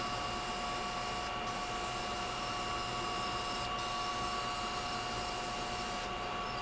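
Helmsman spray finish being sprayed in a steady, continuous hiss as another coat goes onto a laser-cut sign on a hot day, with brief gaps where the nozzle is released.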